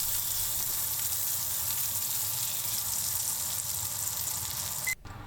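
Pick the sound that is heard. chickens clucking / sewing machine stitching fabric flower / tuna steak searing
tuna steak searing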